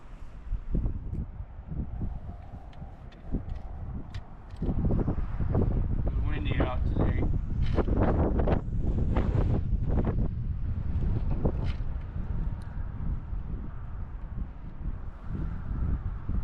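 Wind gusts across a frozen lake during ice fishing, buffeting the microphone in rough, uneven rumbles that strengthen midway and then ease off slightly.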